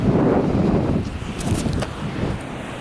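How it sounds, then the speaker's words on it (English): Wind at Rainbow Beach buffets the microphone with a heavy, low rumbling roar that starts strong, eases slightly, then surges again in gusts, close and constant. "So yes, kind of wind is still here"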